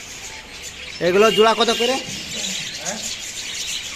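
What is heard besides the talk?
lutino budgerigars chirping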